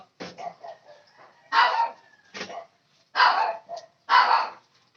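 A young puppy yaps in a string of short, sharp barks, close and loud with brief pauses between bursts, some higher and yelpy.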